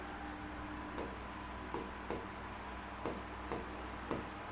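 Pen or marker writing by hand on a board during an accounting lecture, a soft steady scratching with periodic sharp strokes and taps over low room hum, no talk.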